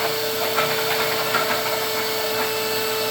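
Suction hose pulling loose rust out of the fuel tank of a 1972 Honda Twinstar 250 motorcycle during restoration: a steady loud vacuum roar with faint gritty rattles of particles running through it.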